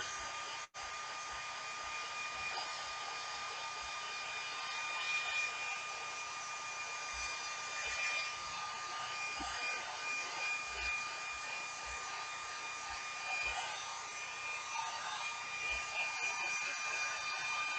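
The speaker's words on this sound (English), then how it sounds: "blow dryer time here. Once this actually heats up the wood, it really makes it dry fast." A blow dryer runs steadily, heating and drying gesso-coated wood on a lathe in a woodturning demonstration, a continuous close, even hiss-roar with a faint tonal whine and no talking.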